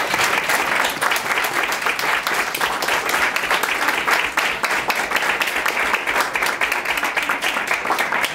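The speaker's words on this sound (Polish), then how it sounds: "Wielkie brawa." An audience at a 2015 volunteer gala claps loudly and steadily, a dense, even wash of applause that holds at full strength for the whole stretch.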